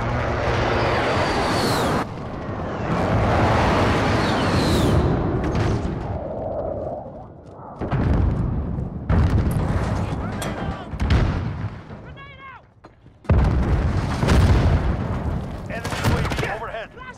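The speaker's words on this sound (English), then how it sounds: "Allied precision airstrike incoming." Precision airstrike explosions in the Call of Duty Modern Warfare beta: a run of heavy, rumbling blasts and booming bursts in close succession, with gunfire-like cracks and a game voice cutting in between.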